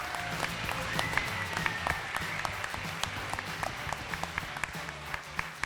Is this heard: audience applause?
yes